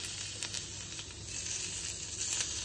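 Prawns dressed with salt and olive oil sizzle on a very hot grill, a steady, even hiss with faint crackles throughout, fairly close.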